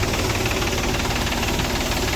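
A tractor engine runs steadily nearby, a continuous low rumbling drone with knocking texture and no pauses over a couple of seconds.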